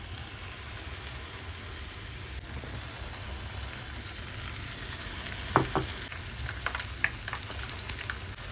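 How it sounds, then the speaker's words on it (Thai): Holy basil leaves coated in batter deep-fry in hot oil with a steady, close crackling sizzle, with a few sharper pops and spits in the second half. "ใบกะเพราก็เอามาชุบแป้งทอดเช่นกันนะคะ"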